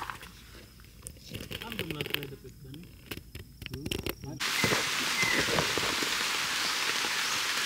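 Light rain falls during a mountain hike, first under scattered talk and footsteps, then a dense steady patter close to the microphone for the last few seconds.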